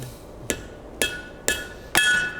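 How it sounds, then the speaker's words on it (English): A blacksmith's hammer strikes hot iron to forge a nail head in a nail header: four loud, ringing metallic blows spaced evenly about half a second apart, each with a short bright decay, and no voices. "I can snap it off in my header and forge the head"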